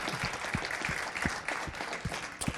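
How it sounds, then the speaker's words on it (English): Applause from a conference talk audience, a dense steady patter of claps with a few louder individual claps standing out, moderately loud and continuous for a couple of seconds. "And applause."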